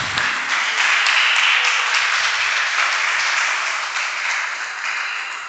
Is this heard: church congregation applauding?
yes